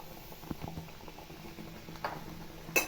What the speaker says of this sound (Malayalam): വെള്ളം തിളച്ചിട്ടുണ്ട്.